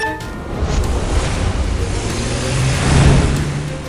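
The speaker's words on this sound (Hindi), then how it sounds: "और वो तुरंत गाड़ी को और तेज करता है" Cartoon car speeding up to escape, a loud close engine roar that swells and climbs in pitch toward the end, alone without talk.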